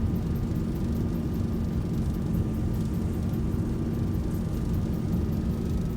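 Steady, loud jet engine roar from a Boeing 737-800 airliner in X-Plane 12 as thrust reversers deploy on landing, a constant broadband rumble with no breaks or speech.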